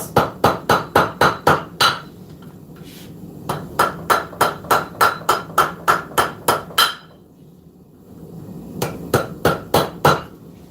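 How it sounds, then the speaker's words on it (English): Rapid, ringing hammer blows on metal over the horn of an anvil in quick even bursts, a short pause, then more strikes; loud and close with a bright metallic clang. "Got to make sure you hammer from both sides when you're on the end of a horn."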